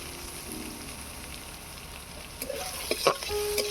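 Dried red chillies, garlic paste and chopped onion fry in a pan with a quiet, steady sizzle. Near the end, a few clicking stirs and scrapes of a utensil join in close by.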